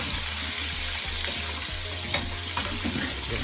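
Curry chicken feet frying in a pot with butter, a steady close sizzle and crackle while they are stirred, with a few brief scraping clicks of the spoon against the pot.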